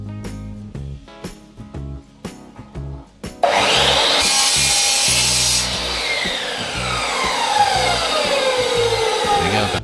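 A few sharp taps, then a loud, steady power saw cutting through wood, its pitch falling as the blade works through the cut.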